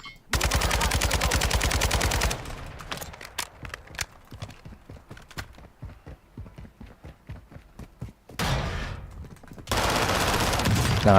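Fire shotgun blasts in a video game, dense bursts of rapid, loud shots in two long volleys separated by a stretch of quicker, sparser cracks.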